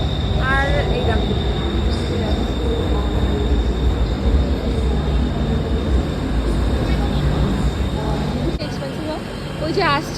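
A Bangkok metro train approaches through a station, a loud steady rumbling roar with a sustained high tone above it and faint voices murmuring in the background.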